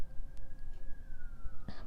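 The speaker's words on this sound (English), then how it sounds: "Ignore the sirens, because that's what I'm doing." Emergency vehicle siren sounding outside at a distance, a faint sustained wail that slowly falls in pitch, with close clicks and small handling noises indoors.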